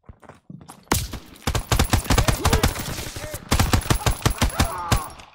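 PPSh submachine gun fired in Call of Duty WWII campaign, loud rapid automatic bursts with sharp repeated cracks, several strings of fire separated by short gaps, close and dominant.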